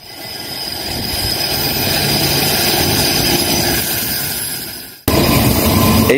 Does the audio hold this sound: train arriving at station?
yes